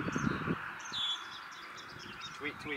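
A bird chirps loudly nearby on a golf course, with bright repeated tweets over a breezy outdoor background and a voice briefly at the start.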